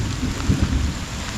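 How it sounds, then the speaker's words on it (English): Low thunder rumbles beneath dense, steady rainfall during a storm on a flooded hiking trail, a short, close wash of rain with a deep roll underneath. "Can you hear that? Thunder."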